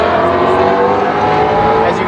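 Ford Mustang GT350R with a 5.2 liter V8 racing along the front stretch of Laguna Seca, a loud, steady engine roar sustained throughout with no pauses.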